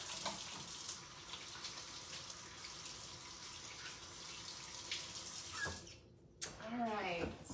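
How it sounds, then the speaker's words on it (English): A kitchen sink tap runs steadily while hands are washed beneath it, a soft continuous splash that stops near the end before a voice speaks. "I'm gonna wash my hands real quick."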